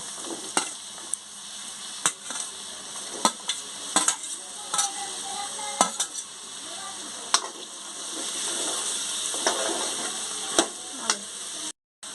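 Bottle gourd pieces fry with ginger-garlic paste in a pan, giving a soft constant hiss and sizzle punctuated by crisp spatula taps and clacks against the pan, close and without speech.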